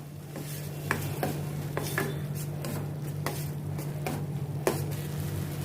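A spoon stirs besan and peanut-sesame masala into grated vegetables in a pan, with scattered metallic scrapes and taps against the cookware over a low steady background hum.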